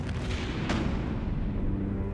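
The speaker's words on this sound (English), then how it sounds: "the Redoutable is raked by devastating cannon fire from the Victory" Heavy cannon fire during a naval battle between wooden sailing warships, the Victory firing on the Redoutable: a loud, continuous rumbling barrage with one sharper boom standing out near the start, with no voices.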